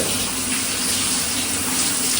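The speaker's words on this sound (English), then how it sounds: "There's so much pressure and so much volume of water." A newly built standing shower runs at strong pressure and high volume, a loud, dense, steady hiss and rush of water close by, with no voices.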